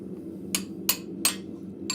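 A ball peen hammer strikes metal on an anvil in a blacksmith shop, giving four sharp, bright clinks at uneven intervals over a low background hum, with no voices.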